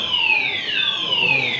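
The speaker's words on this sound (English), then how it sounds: "Is it the fire alarm? Yes. It's in the kitchen alarm." A kitchen fire alarm goes off with a loud, continuous electronic wail that sweeps repeatedly in falling tones, sounding close and unbroken.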